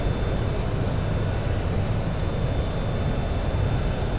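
Simulated jet engines of a Boeing 737-900 in the X-Plane 11 flight simulator roar in a steady, dense whoosh with a faint high whine, holding constant and unbroken throughout, with no talk.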